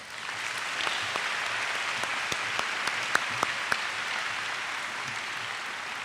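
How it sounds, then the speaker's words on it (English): An audience at a school awards ceremony claps in a steady, moderate wave of applause that holds for several seconds, with a few sharper individual claps standing out near the end. "Let's give them a round of applause."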